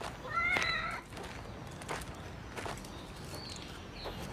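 A cat meows a few times in a film scene where a young woman plays with it, with short, fairly close calls over faint background rustling and light steps.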